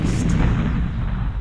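A loud, dense explosion-like blast of broadband noise, sustained and rumbling with heavy low end, continuous for the whole moment without a clear single onset.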